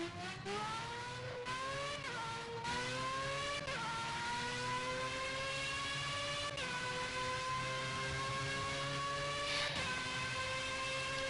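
A race car engine in the video game Project Cars revs and throttles continuously, its pitch climbing in repeated rising sweeps broken by gear shifts, loud and steady with no talk.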